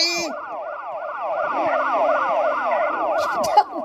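Police car sirens wail continuously in Extreme Car Driving Racing 3D, with a fast, repeating up-and-down pattern that stays loud throughout and a brief click near the end.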